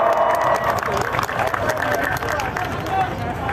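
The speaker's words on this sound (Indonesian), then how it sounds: "Kita kasih aplaus kawan." A crowd at an outdoor labor rally in front of a parliament building breaks into sustained applause and cheering, a dense, loud wash of clapping and voices continuing throughout.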